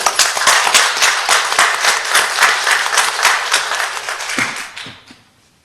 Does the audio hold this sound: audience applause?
yes